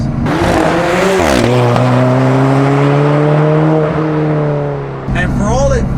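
An Alfa Romeo 4C Spider engine drones and shifts through gears, the pitch climbing then dropping with each change, close and loud, with talking over part of it.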